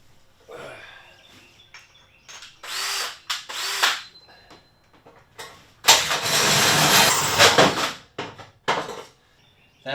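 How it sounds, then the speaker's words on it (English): A drill fitted with a hole saw cuts a 2-inch hole during plumbing work in a vintage Avion camper, heard as loud, close bursts of grinding and whirring that start and stop several times, with short pauses between them. "That's the hole that I just cut with the hole saw."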